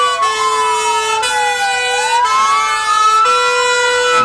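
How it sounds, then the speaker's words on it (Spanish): Fire brigade rescue truck of the second company of firefighters sounding a loud wailing siren while passing in a parade, the tone sweeping up and down over a steady horn-like layer, close and continuous. "Y sucede el carro rescate de Zapadores de la segunda compañía de bomberos."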